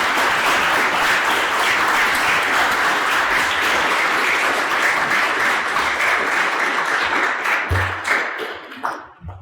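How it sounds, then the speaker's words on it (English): A seminar audience applauds its speakers steadily for about nine seconds, a dense wash of clapping that thins out and fades near the end. "the final round of applause for our speakers today"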